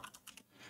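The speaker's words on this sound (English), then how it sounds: "typing is so hard" Quick typing on a computer keyboard, a few soft, close key clicks in a short burst followed by quiet.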